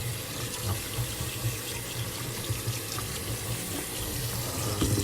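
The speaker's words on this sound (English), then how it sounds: "We're gonna drain the water right here, putting some cold water right on top." Cold tap water running over drained macaroni in a sink, a steady close splashing rush with small irregular spatters, continuous and fairly loud without voices.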